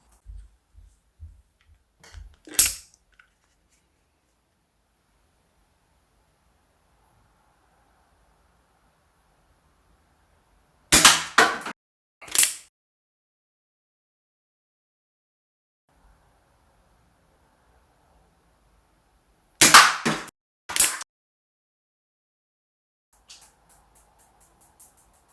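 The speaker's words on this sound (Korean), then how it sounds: "다시 장전하고 표적에 한번 사격해서 발사 성능을 확인해 보겠습니다" A Tokyo Marui airsoft revolver fires at a target: five sharp, loud cracks, one early and then two spaced pairs separated by long silent gaps, with a few faint clicks in between.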